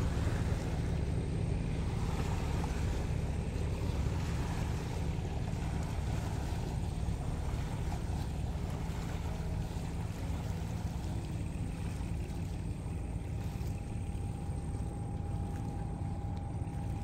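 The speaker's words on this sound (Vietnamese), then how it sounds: "Wow, vỏ lãi chạy sóng nó vỗ vào bờ." A vỏ lãi longtail boat passes on a river at Chợ Gạo while its wake laps steadily against the bank, heard as a continuous low wash and engine rumble with some wind noise and no talking.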